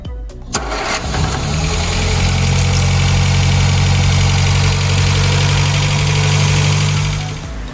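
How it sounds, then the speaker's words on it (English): A 1960 MG MGA 1600 Roadster engine cranks and catches, then settles into a loud, steady idle close by, the running note holding evenly before easing off at the end. "The car does run and it sounds pretty good."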